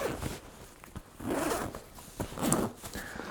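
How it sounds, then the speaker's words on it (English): A zipper closing a compartment on a 3V Gear Shift Urban Sling Pack, heard as quiet, close ratcheting pulls in a few short strokes, with no voice over it. "And you can zip it back up."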